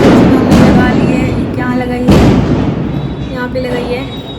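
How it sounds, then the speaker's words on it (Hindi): Firecrackers bursting outdoors during Diwali celebrations, a continuous crackle of pops with two louder thumping bangs, heard from indoors with voices and festive noise mixed in. "अभी बाहर में बहुत ज़्यादा पटाखा चल रहा है"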